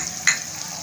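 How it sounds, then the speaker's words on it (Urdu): Garlic and tomatoes frying with red chili powder and cumin in a pan, a steady sizzle with one brief sharp stir or scrape near the middle. "لہسن کو 1 سے 2 منٹ کے لیے ہم فرائی کر دیں گے ٹماٹر کے ساتھ۔"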